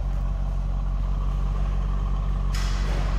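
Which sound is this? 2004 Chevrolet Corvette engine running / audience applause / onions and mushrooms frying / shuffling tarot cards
2004 Chevrolet Corvette engine running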